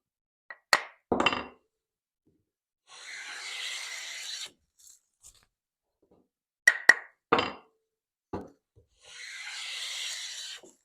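Hand plane with a freshly stropped sharp blade taking thin wood shavings: two smooth, airy strokes a few seconds long, separated by sharp wooden knocks and clicks as the plane is set down and handled.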